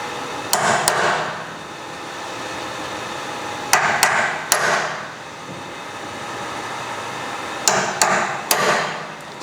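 A hammer strikes a center punch to dimple a trailer chain link, with three pairs of sharp metallic blows spaced a few seconds apart over quiet shop ambience.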